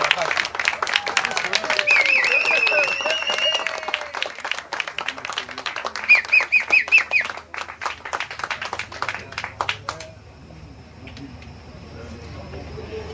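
Audience applause from a crowd at a Sunday event in New York, sustained clapping that thins out after about ten seconds, with voices talking over it.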